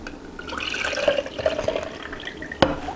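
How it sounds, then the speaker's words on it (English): Water is poured out in a home kitchen while a roast turkey is being prepared, a quiet, close trickle and splash with a few small gurgles and one sharp drop near the end. "Pour out the water."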